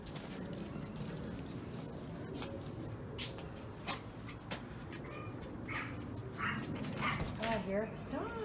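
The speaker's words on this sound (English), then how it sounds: "Dogs. Hi. Oh, puppy." Dogs bark and yip at a house as a holiday turkey dinner is delivered, several sharp barks and whimpers close by, mixed with shuffling and people talking.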